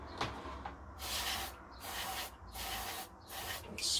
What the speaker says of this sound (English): let's spray those down.